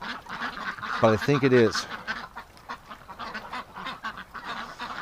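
Ducks in a winter pen let out a short burst of loud, harsh honking quacks, close and prominent, while someone talks before and after.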